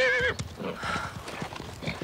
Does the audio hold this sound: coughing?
no